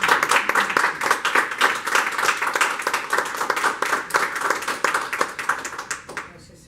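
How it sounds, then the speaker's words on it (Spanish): A church congregation applauds the Lord Jesus Christ in a loud, dense run of clapping that holds steady for several seconds before tapering off at the end. "Dale un aplauso al Señor Jesucristo"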